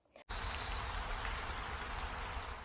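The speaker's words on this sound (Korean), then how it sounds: "빗방울이 나뭇잎에서 토토로의 우산 위로 떨어졌습니다" Rain drips from leaves onto an umbrella as a dense, even patter that starts abruptly after a brief pause and then holds steady and soft.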